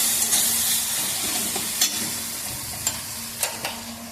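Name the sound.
chicken chow mein noodles stir-fried in a pan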